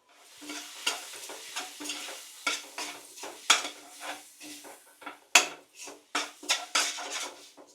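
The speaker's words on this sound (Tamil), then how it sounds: "மஞ்சத்தூள் எல்லாத்தையும் ஒன்றா போட்டு வதக்கிப்போம்" Spices and turmeric sizzle softly in a pan while a spoon scrapes and stirs in repeated strokes, near and fairly quiet, without speech.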